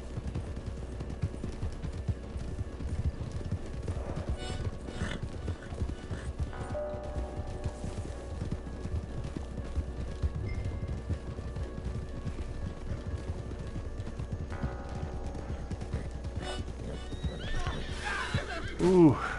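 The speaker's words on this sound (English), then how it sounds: "my horse is stepping on you" A Wild West video game horse clip-clops in a steady hoof rhythm and lets out whinnies, under ongoing talk throughout.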